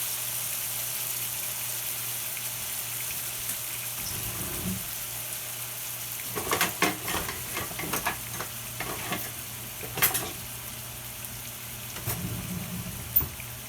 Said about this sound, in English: Meat masher. Works really good.